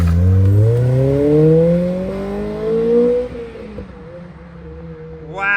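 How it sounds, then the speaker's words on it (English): Acura RSX Type-S with an Injen short ram intake and VTEC engine revving up hard, a loud rising engine tone climbing steadily for about three seconds before easing off into a lower drone, recorded from inside the moving car. "Wow, you can really hear the VTEC with that."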